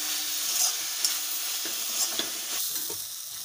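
Pepper chicken frying in an iron wok, with dense steady sizzling broken by a few sharp stirring clinks and scrapes, close up and with no speech.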